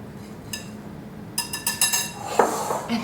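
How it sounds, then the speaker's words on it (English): A whisk clinks against a bowl holding flour, baking powder, salt and baking soda, a quick series of bright metallic taps after one early knock, fairly close and with no talking. "Whisk."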